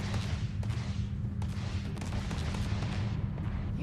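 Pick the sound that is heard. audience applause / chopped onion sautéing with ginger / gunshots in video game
gunshots in video game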